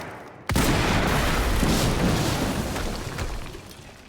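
A loud explosion booms in the video game Quantum Break, a sudden blast that rumbles and slowly decays with debris-like crackle over a few seconds.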